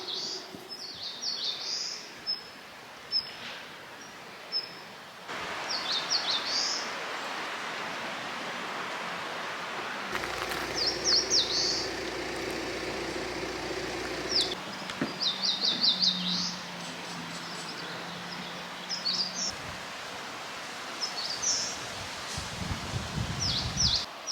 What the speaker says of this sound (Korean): 새소리가 정말 좋아요